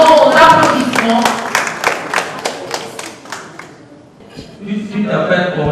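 An audience at a spelling contest claps to encourage the first contestant stepping forward, a burst of crisp, fairly close handclaps that thins out, then a voice speaking.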